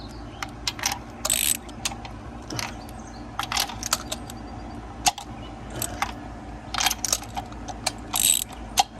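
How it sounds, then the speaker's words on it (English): A 3/8 ratchet with an extension clicks in quick bursts while breaking bolts loose on an engine, the metallic ticking of the pawl repeating in close, moderately loud runs with brief pauses between. "Got a 3/8 ratchet, 5/8 extension, or a 3/8 ratchet extension, and then a 5/8."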